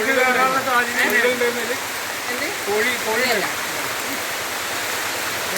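Heavy rain falls while a stream overflows onto a road, a steady rushing wash of water throughout, with a person talking over it during the first part.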